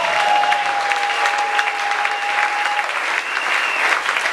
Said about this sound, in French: Acclamons la présence du Saint-Esprit.